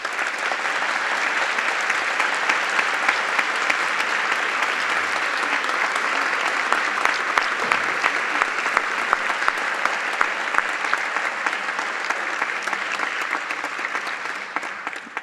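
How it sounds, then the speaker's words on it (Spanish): Steady, dense applause from an audience at a university debate panel on food sovereignty and health, sustained loudly and evenly for the whole stretch with no pause. "así que un fuerte aplauso"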